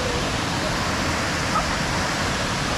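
Cachoeira da Ressurreição in Águas Mornas roars as a steady, loud broadband rush of falling water, constant and close throughout.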